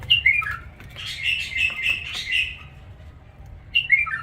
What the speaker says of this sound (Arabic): ذهب هناك قاعد يغرد